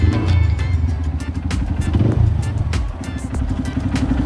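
A new motorcycle's engine idles and putters close by at a cattle farm, a steady low chugging with small rises and irregular clatter throughout.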